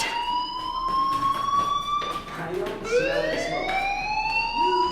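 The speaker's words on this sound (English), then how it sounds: "Hey, do you hear that fire alarm? That means you should be outside." A loud electronic fire alarm in the video game Life is Strange wails continuously with rising and falling tones, a steady siren-like sweep filling the whole stretch.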